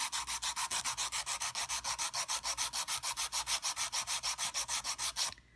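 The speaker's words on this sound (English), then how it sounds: "I'm going to take my file, and I'm going to file this way. We're going to file straight up." A hand file strokes a sculpted gel stiletto nail in about thirty quick, even back-and-forth rasps, close and steady, then stops abruptly.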